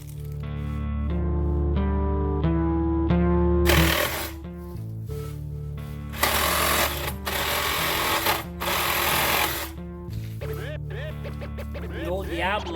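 A Sawzall reciprocating saw fitted with a Diablo blade cuts through wooden pallets, loud and close, in several bursts after a steady engine-like hum, with speech-like noise mixed in.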